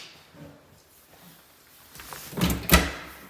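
House doors open and close near the end: a couple of sharp knocks and a solid latch shut follow quieter handling sounds.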